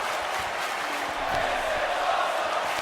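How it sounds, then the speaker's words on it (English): A wrestling crowd at an underground FMW event roars wildly, a steady, dense wall of cheering and yelling that swells slightly toward the end. "The crowd is going absolutely wild."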